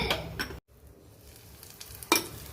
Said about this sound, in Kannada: ಒಗ್ಗರಣೆ ಮಲ್ತೇನು